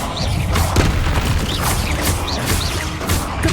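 A Confringo blasting spell explodes in Hogwarts Legacy, a dense run of booming, crackling bursts repeating roughly every half second, loud and continuous with no talk.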